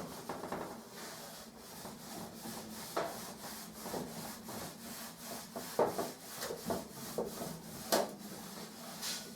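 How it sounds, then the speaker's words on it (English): A cloth wiping back and forth over rusty galvanized metal, giving a steady series of quick, close rubbing strokes in an even rhythm with a few sharper scuffs. "onto a cloth and just wipe over"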